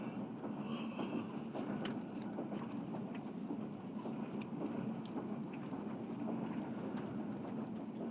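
A train rumbles along steadily with rhythmic clatter and faint metallic clicks, continuous and fairly distant, with no voices, in a 1966 Bengali film.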